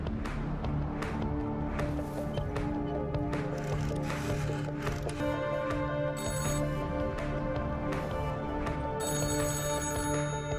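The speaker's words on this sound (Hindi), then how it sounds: "अकबर के केबिन का फोन लगातार बज रहा है।" A telephone ringing continuously in an office cabin, repeated bright electronic ring bursts in a steady rhythm filling the whole stretch, close and clear with no talk.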